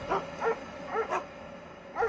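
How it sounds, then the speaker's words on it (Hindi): Several dogs bark at night in short, sharp bursts, about five or six barks in quick irregular succession, at moderate distance with no other sound. "कुछ कुत्ते उसे घेर कर जोर जोर से भौंक रहे थे"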